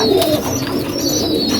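Several pigeons coo close by in a loud, continuous low murmur with overlapping calls and no talking over them.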